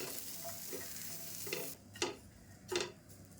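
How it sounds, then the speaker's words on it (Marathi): Chopped onion dry-roasting without oil in a pan for a traditional Konkan amti, stirred by hand. A soft, quiet sizzle is broken by three or four distinct scraping strokes of the spoon near the end, with no voices. "कांदा ना आता भाजत आला आहे"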